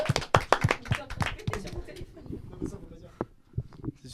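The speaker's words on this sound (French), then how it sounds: "Applaudissez!" Studio audience clapping on a French talk show, several loud sharp claps at first, then thinning to scattered claps with voices talking over them.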